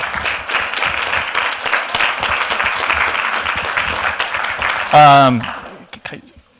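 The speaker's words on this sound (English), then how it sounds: "let's give everybody a round of applause for all the work they did" Community meeting audience on mental health and resiliency breaks into sustained applause, a dense steady wash of many clapping hands that ends with a brief cheer or whoop before fading.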